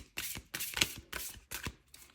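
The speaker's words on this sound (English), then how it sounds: "So just a quick shuffle." Cards are shuffled in several quick riffling bursts, each a short crisp flutter separated by brief pauses, close and fairly quiet.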